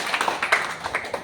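Children in a classroom break into a short burst of clapping, scattered and uneven, fairly soft and close with a few sharper claps standing out.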